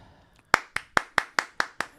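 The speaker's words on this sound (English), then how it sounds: "I'm going to clap one more time." Seven sharp hand claps, evenly spaced and close by, each one crisp and standing alone against near silence.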